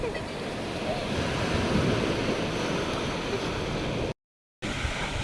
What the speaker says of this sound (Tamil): ஒரு பெரிய அலை வருது.